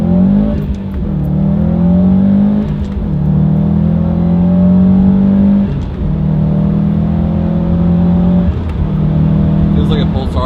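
A Subaru STI with an Invidia Q300 hi-flow catted downpipe pulls hard through several gears, heard from inside the car with the windows up at night. Loud engine drone rises in pitch with each gear, with brief dips at the shifts and turbo whistle on top.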